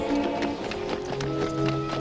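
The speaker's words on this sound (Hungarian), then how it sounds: "Hadd jön egy ló!" Horse hooves clip-clop in a steady, quick rhythm as a horse approaches in a 1950 western film, the hoofbeats clear and moderately close against a soft background.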